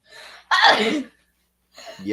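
A single loud, close sneeze bursts out after a short intake of breath, followed by silence and then a brief voice.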